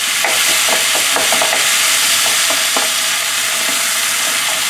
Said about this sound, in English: This is the basic stir fry.